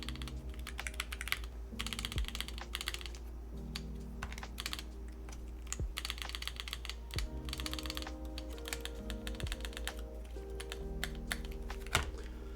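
Continuous typing on a Ducky One X Mini mechanical keyboard, built with no foam, produces a quiet, steady stream of key clicks with a few louder, sharper strokes and occasional bursts of rapid keypresses.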